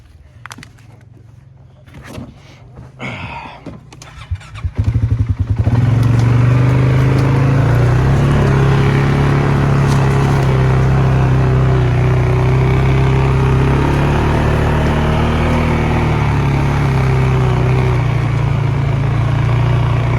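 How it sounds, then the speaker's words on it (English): A small four-wheeler ATV engine starts up and runs steadily at a loud, droning idle with slight pitch wavering, after a few seconds of quieter clatter and noise. "I hear Jake's four-wheeler at least"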